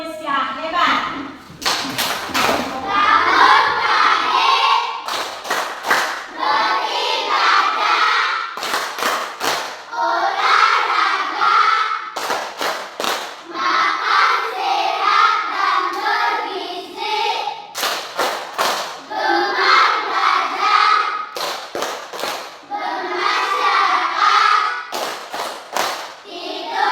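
Children in an Indonesian classroom perform a rhythmic clapping chant, "Tepuk 7 kebiasaan anak Indonesia hebat", as an ice-breaker: loud bursts of sharp claps repeat in regular phrases, with the chanting voices between and over them throughout.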